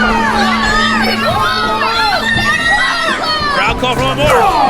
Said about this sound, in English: Crowd call for one more.